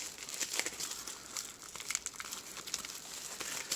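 Plastic packaging of a Newhomy diamond painting kit crinkles steadily up close, dense crackly rustling with small louder crunches throughout.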